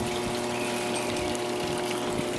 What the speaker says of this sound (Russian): Вот в лодочках кондиционер работают. Они водичкой охлаждаются.